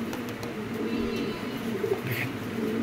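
A pair of Shadeluma racer pigeons coos nearby in soft, low, murmuring bursts that run steadily through the clip, with faint chirps over a constant background hum.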